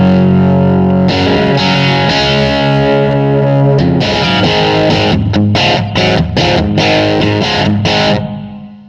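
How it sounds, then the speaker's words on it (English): Heavily distorted electric guitar through a Blackstar ID:Core V4 amp with saturated power-amp tone: ringing chords, then chugging palm-muted riffs with sharp stops, loud throughout before tapering off. "it kind of mimics power amp saturation. Sounds like this."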